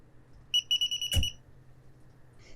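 A DSC Neo touchscreen security keypad beeps while the alarm system arms: a rapid train of high electronic beeps, then a low thump, then a faint short chirp after a quiet gap.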